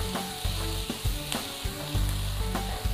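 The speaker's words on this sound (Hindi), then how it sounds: "आपको इसको गोल्डन ब्राउन ही करना है अच्छी तरह से प्याज को पकाए" Finely chopped onions fry in a pan over a medium flame until golden brown, a steady close sizzle with occasional stirring scrapes, no voices.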